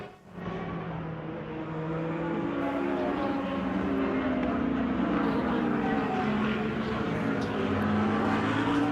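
Historic race cars at a classic event at Daytona International Speedway produce a loud, sustained engine roar that swells and shifts in pitch as the cars pass and accelerate, with overlapping exhaust notes.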